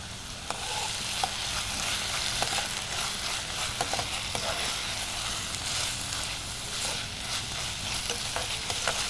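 Onion, tomato and ginger garlic paste sautéing in oil, giving a steady, dense sizzle and frying hiss with scattered stirring scrapes throughout, close and fairly loud.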